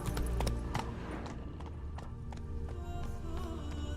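A horse gallops in The Witcher 3: Wild Hunt, its hooves beating a quick, regular clip-clop rhythm close by and clear for the whole moment.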